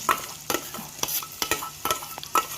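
Onion frying in oil and ghee, a soft sizzle broken by repeated sharp scraping and clattering stirs, roughly two or three per second, close and alone.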